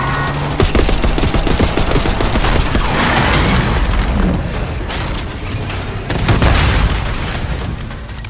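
Gunfire in a Call of Duty Black Ops 6 cutscene, dense rapid automatic bursts mixed with booming blasts, loud and continuous throughout, surging again near the end, with no clear talk over it.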